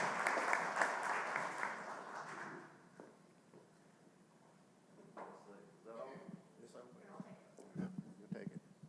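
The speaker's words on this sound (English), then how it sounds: "let's give him a big round of applause" A breakfast audience at a chamber of commerce event applauds for the Gwinnett CEO, a moderate burst of clapping that fades over about three seconds, followed by shuffling, footsteps and murmured talk.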